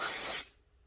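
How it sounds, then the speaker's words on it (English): Aerosol carburetor cleaner sprays onto a snowblower carburetor in one close, loud hissing burst lasting under half a second, then cuts off to near silence. "I just like to give it a quick spray."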